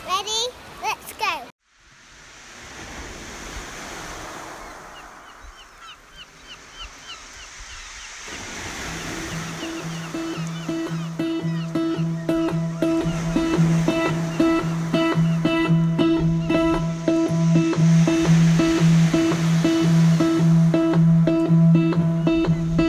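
Ocean waves wash and break on a beach in Devon in a continuous roar, with a voice heard near the start before the surf and wind noise build.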